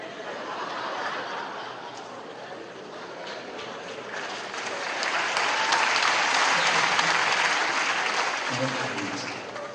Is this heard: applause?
yes